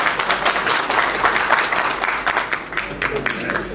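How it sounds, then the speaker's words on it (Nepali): An audience at a press-conference comedy event claps in continuous, steady applause that stays loud and even throughout. "छाती फुलाएर एकचोटि ताली बजाउनुहोस् त"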